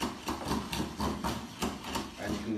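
A copper drill charged with sand grinds into granite in a steady, rhythmic scraping pattern of about ten repeated strokes, moderately quiet and close, with no talking.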